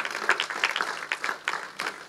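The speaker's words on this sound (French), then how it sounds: "On l'applaudit." Scattered congregation applause in a church service, fairly faint, with distinct individual claps and a thin, uneven rhythm.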